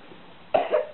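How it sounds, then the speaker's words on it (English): A child gives one short, sharp cough, then a fainter second one, close by in an otherwise quiet room. "Open your mouth, please, when you're coughing."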